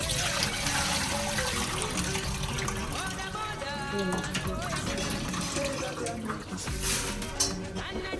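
Water sloshing and pouring out of a container of rinsed mung beans, a continuous splashing trickle close by, with a voice heard faintly underneath.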